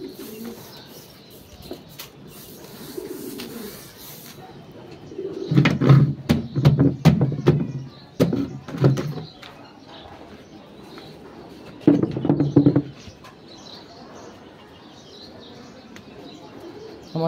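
Pigeons cooing at close range in a loft, several bursts of deep throaty calls in groups, with soft flutters and quieter chirps between them.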